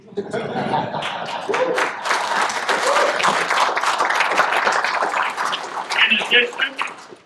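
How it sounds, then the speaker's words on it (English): Audience applause at a Scouting award ceremony, a steady wash of clapping lasting several seconds with scattered laughter and crowd chatter mixed in, fairly loud and close. "I'm keeping the applause sharp"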